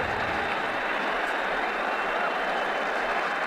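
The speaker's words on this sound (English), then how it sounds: "The crowd really enjoyed that one." Crowd applause for a four in Ashes Cricket 2009 hisses as a dense, steady wash of distant clapping, fairly faint and unbroken throughout, with no voices standing out.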